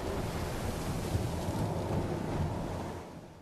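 Stormy sea during a hurricane-force gale, with a steady roar of heavy waves and blustering wind filling the clip, dense and continuous before easing slightly at the end.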